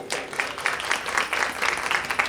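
Crowd at a Haridwar religious discourse applauds for the guru, steady rhythmic clapping from many hands filling the space for a couple of seconds with no talk over it.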